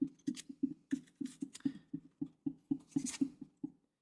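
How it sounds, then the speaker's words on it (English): Heavy rain drums on a windowsill in a fast, uneven run of close, dull thuds with a few brighter taps, steady for about four seconds before it stops. "It's the heavy rain we've got hitting the windowsill."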